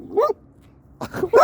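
A Caucasian Ovcharka at a dog park gives two or three short, close barks with a pause between them, loud and abrupt, with no talking.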